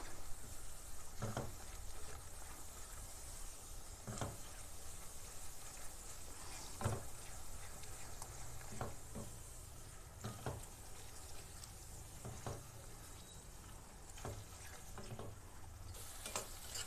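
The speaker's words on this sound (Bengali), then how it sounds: "দইটা দিয়ে আবার ভালোভাবে কষিয়ে নিয়েছি" Katla fish gravy with beaten yogurt stirred in a pan on low flame, a soft continuous sizzle with occasional spoon taps and scrapes spaced a few seconds apart, quiet and without talk.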